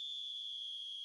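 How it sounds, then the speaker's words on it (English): A referee's whistle in the eFootball 2025 video game sounds for half-time as one clear, steady, high-pitched tone held for about a second. "And the whistle goes for half-time."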